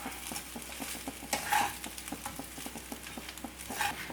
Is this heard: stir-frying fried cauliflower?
yes